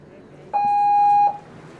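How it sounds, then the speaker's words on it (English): A single loud electronic race start buzzer at a rowing regatta sounds for under a second, steady and pitched, then cuts off abruptly, with faint background murmur. "So the buzzer sounds."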